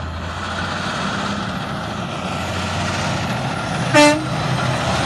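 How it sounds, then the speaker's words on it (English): A single short dump truck horn blast sounds out over steady road and engine rumble, fairly close and loud. "I'm gonna do the horn signal and see if he honks at us."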